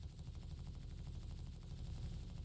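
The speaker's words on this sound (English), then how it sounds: "I can shoot just about everything in front of me." Drake Caterpillar ship turret in Star Citizen firing a sustained stream of rapid gunfire, a continuous dense rattle of shots with steady loudness and a heavy low-end rumble throughout, no speech.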